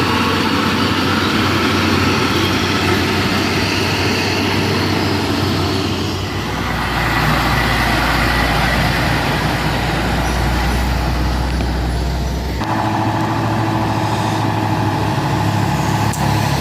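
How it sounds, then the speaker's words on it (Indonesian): Nissan Diesel Tronton truck engine rumbling loud and deep as it passes close by, the heavy diesel tone shifting in pitch twice as it moves, with no talk. "ini truk langka ya teman-teman, Nissan Diesel Tronton"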